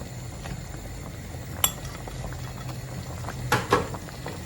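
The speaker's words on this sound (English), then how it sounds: "I'm going to cover it and bring it to boil on a medium heat." Creamy carbonara sauce with mushrooms comes to a boil in a covered pan over medium heat, making a low, steady bubbling hiss broken by a few sharp clinks of metal, with no talking.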